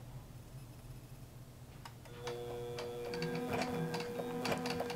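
A QBOT quilting machine sews tie-off stitches, then runs its stitching pattern, with soft rapid mechanical ticking and clicking over a low steady motor hum, close and continuous with no talk.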